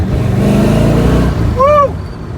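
A 1969 Corvette engine revs hard up close, a loud, deep rumble that swells and then drops off, with a short voice cry near the end.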